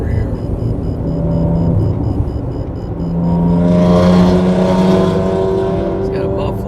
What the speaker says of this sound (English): Got a muffler out over here.